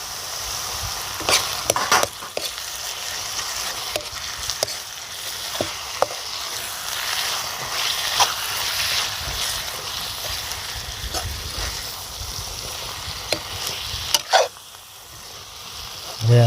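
Tomatoes frying in a pan for village-style aloo methi, a steady close sizzle with occasional stirring scrapes and clinks running throughout, loud and continuous without talk.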